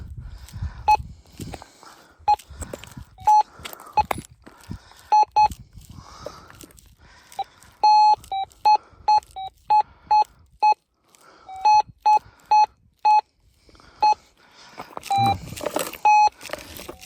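Short, repeated electronic beeps from a metal detector sweeping over rebar buried in cement at an abandoned Arizona gold mine, chirping in irregular bursts with some rustling and footsteps between, ending in a noisy scrape.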